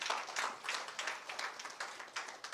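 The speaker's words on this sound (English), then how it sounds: "Oh, clap for that man." An audience claps at a speech event, a dense patter of many hands held at a moderate distance and fairly soft level throughout.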